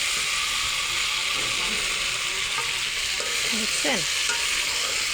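Curry for rui fish with eggplant and potato sautéing in a pan, a steady bright sizzle with scraping stirs and utensil clatter, and a voice speaking briefly.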